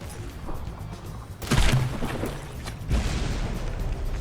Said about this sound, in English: Cascade Squadron only has one gun firing